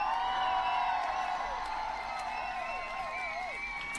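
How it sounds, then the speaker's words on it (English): Audience applause sound effect played on a gaming stream: a canned burst of cheering, whoops and clapping, fairly loud at first and then easing slightly while holding steady to the end. "have the audience applaud for you"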